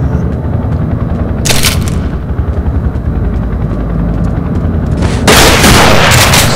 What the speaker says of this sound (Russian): Граната летит,